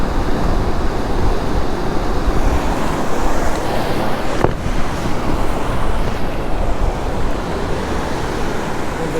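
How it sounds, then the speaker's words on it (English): Strong outdoor wind roars steadily against the microphone for the whole stretch, with one sharp knock midway as the camera is blown over. "Wind came up and blew the camera over on me"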